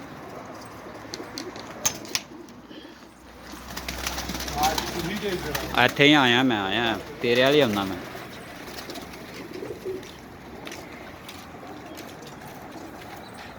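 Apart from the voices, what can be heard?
pigeons cooing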